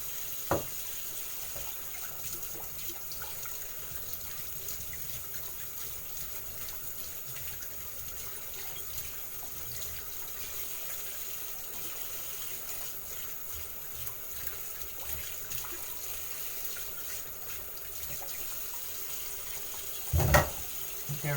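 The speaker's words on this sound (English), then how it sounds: "And now I'm washing the dishes while we wait for the water to boil." A kitchen tap runs steadily into a sink while dishes are washed, a continuous watery hiss with occasional clinks and a sharper splash or clatter near the end, heard close with no talking.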